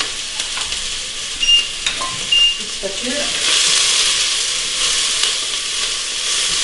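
Steady oily sizzle of onions frying in olive oil in a pan, with brief utensil scrapes and a short spoken phrase near the start.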